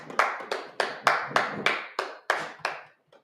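A congregation at a Sabbath service claps in a series of about nine sharp, evenly spaced group claps, each decaying quickly, close and moderately loud with no talking.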